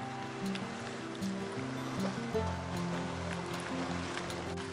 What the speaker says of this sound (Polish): Tu fale rozbijają skały.